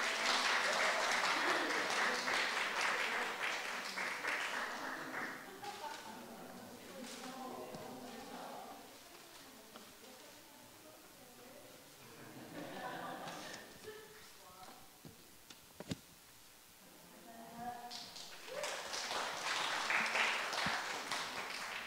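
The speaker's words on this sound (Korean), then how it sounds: "박수로 환영해 주세요" Audience applause at a 2023 EDTS graduation ceremony, loud clapping at the start that fades under a speaker's voice and then swells again near the end.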